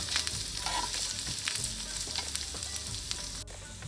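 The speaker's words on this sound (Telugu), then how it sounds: "చూసారు కదా, ఇది బాగా ఫ్రై అవుతుంది అనమాట." Mint, coriander and curry leaves fry steadily in a pan for chutney, a dense continuous sizzle with small crackles and occasional stirring scrapes, close and alone with no talk.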